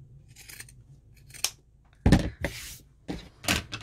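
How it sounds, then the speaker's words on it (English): Pinking shears snip through stitched fabric for a bow tie, several distinct crisp cuts with short pauses between them, close and clear in a quiet room. "Next, we're going to get our pinking shears and we're going to take some of that bulk out."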